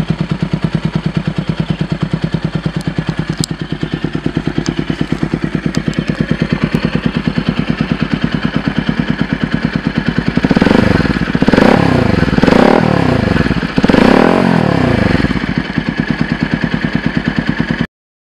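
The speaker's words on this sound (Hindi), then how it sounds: "सो ये रहा इसका एग्जॉस्ट साउंड।" A modified Bajaj NS200 motorcycle idles with a steady, throbbing exhaust beat, then revs up several times in loud surges before settling back to idle.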